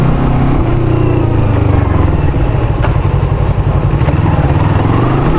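A Bristol big bike motorcycle engine runs loud and close as the rider pulls away, a steady throbbing drone that rises slightly in pitch.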